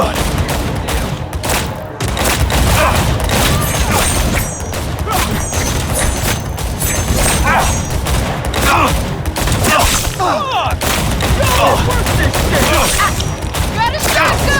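Shotgun fire in Cyberpunk 2077 comes as repeated loud, punchy blasts amid a dense barrage of game gunfire and mechanical clatter, near and continuous across the stretch.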